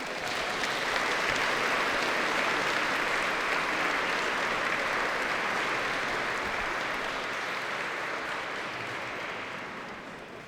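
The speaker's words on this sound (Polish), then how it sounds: "Wielkie brawa!" Sustained applause fills a garrison church in Gdynia for a naval academy vocal ensemble placed second at a contest, a dense even clapping from a large audience that fades slightly toward the end.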